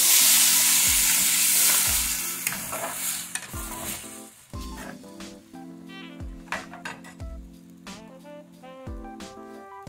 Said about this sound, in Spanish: le vamos a poner la salsa de tomate